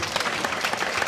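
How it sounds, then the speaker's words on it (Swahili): Loud, dense clapping from an audience at a Form Six graduation ceremony at Barbro Johansson Model Girls school in Luguruni, Dar es Salaam, sustained and even throughout the short burst. "Makofi mengi."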